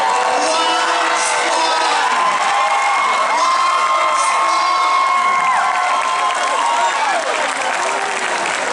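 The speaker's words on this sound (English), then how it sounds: "I'll give her a round of applause." A crowd at a Knott's Scary Farm presentation during Midsummer Scream 2023 applauds and cheers loudly and steadily, with whoops and shouts rising over continuous clapping throughout.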